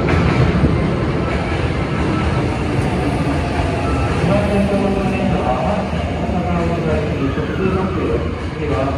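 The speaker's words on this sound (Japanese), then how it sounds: "まもなく2番乗り場に電車が近づいてまいります" A train rumbles into platform 2 of Kosoku-Kobe station on the Kobe Kosoku Line, with loud, steady broadband noise and rolling mechanical clatter that continues throughout.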